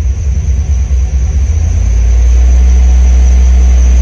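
Engine running at about 1500 RPM to drive an alternator modified for charging and welding, a loud, close, steady low rumble that settles into an even drone with no voices.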